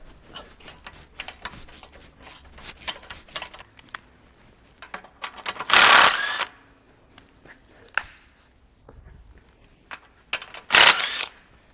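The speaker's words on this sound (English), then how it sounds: "3 nuts that hold the downpipe on. Whiz them off, coming all undone nicely." A ratchet spins off the three nuts holding the downpipe on a car exhaust, with close, quick bursts of clicking between mechanical clanks and two loud rasping bursts.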